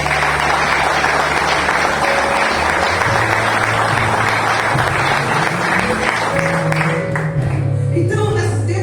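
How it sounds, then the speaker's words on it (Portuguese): Church congregation applauding during a sermon, loud dense clapping from a large crowd sustained for several seconds, with some voices and low musical tones underneath toward the end. "Dá uma salva de palmas para o Senhor"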